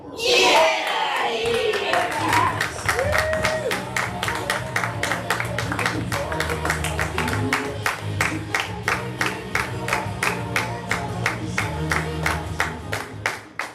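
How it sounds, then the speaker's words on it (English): A live audience claps hands in unison on a count of three. A brief shout and cheer open the sound, then many steady, rhythmic claps land close and loud, with a few voices mixed in. "we're gonna clap our hands"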